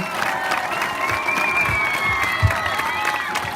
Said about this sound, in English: A round of applause for our Warriors team.